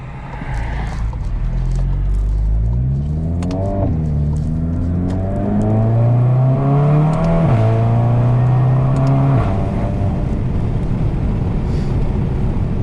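A tuned MK7 GTI with a GTX3071R turbo pulls hard down a residential road, its engine droning loud and close from inside the cabin, revs climbing through several gear changes with rising and dropping pitch.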